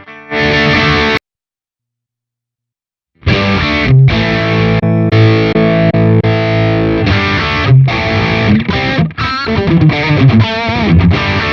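Electric guitar in a Telecaster-style tone through a Line 6 HX Stomp with the Placator amp model, loud and crunchy with distortion and chorus, playing chords and riffs, a brief strum, a two-second pause, then a long continuous passage.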